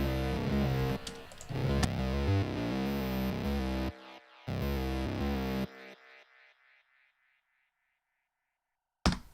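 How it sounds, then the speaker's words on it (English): A synth bass line from a song arrangement plays in a steady distorted pattern, cuts out briefly, returns, then stops as ping pong delay repeats bounce and fade away, followed by a sharp thump near the end. "I have a synth bass that has been going throughout this song."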